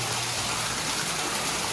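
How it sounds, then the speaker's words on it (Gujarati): Water gushing from a well pipe on a farm, pushed out by air pressure: a loud, steady broadband rush that holds without a break and has no voices over it. "જોવો ખેડૂત મિત્રો પાણી જોરદાર આવ્યું"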